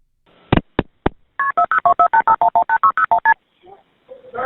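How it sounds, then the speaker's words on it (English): A caller dialing back into a 911 line: three sharp clicks, then a quick run of about fifteen evenly spaced, loud DTMF keypad tones, followed by faint brief noises. "What sounds like the same caller rings back in"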